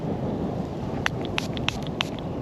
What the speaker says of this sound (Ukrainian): якось вітер дує, незручно